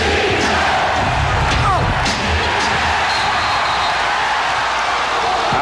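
Basketball arena crowd in Seattle roaring and cheering during a Houston Rockets vs Seattle SuperSonics Game 7 after a layup, a dense wash of voices with an announcer talking over it.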